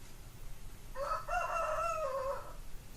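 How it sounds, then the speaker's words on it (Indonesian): A rooster crows once at dawn, a single drawn-out call of moderate distance rising and falling over faint steady background noise. "Ayam sudah mulai berkokok guys, menunjukkan pagi hari"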